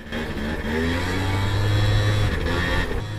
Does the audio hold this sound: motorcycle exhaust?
yes